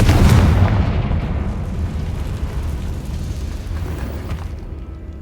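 A Confringo fire spell blasts in Hogwarts Legacy: one loud, close explosive boom at the start, trailing into a long rumbling roar that slowly fades.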